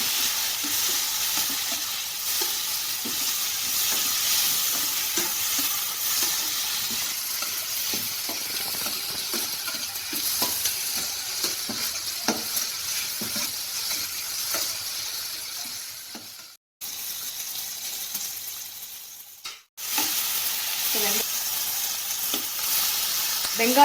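Onion, tomato and a little turmeric powder sautéing in a pan for parotta salna, a continuous close hissing sizzle with soft regular stirring scrapes, twice briefly cutting out before resuming.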